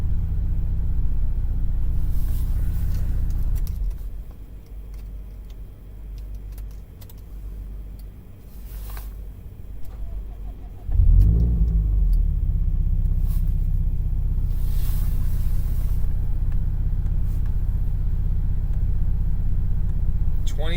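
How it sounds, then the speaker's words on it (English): A tuned Subaru STi with an Emtron KV8 ECU, eight fuel injectors and an EFR8474 turbo cranks, then catches. A low rumble builds to a loud, steady idle that holds for the last half, with faint clicks in the background. "I'm going to crank on it and see what the cranking timing is"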